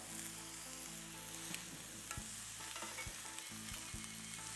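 Prawns frying in a pan sizzle in a steady, quiet crackle, with faint low tones underneath and no voices.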